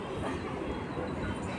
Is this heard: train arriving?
yes